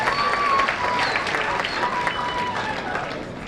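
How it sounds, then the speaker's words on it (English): An auditorium audience at a university graduation ceremony applauds for dignitaries on stage, a dense, sustained patter of many hands clapping at moderate distance. "can we have a huge round of applause for all the dignitaries standing on the stage"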